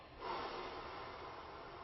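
A single long, soft exhale of breath during a family mindfulness meditation, a steady airy whoosh lasting under two seconds, close and quiet with no talking.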